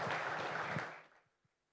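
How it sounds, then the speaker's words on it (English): An audience applauds a panel at a sustainability conference, giving a short, steady burst of clapping that fades out within about a second. "A round of applause, ladies and gentlemen, for our panel."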